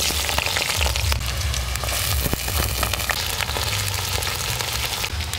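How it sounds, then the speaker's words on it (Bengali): Potatoes fry in hot oil and are stirred, making a loud, dense, continuous sizzle up close, with faint scraping from the stirring underneath and no talking. "আগে আমি প্রথমে আলুগুলো তেলেতে দিয়ে একটু নাড়াচাড়া করে নেব"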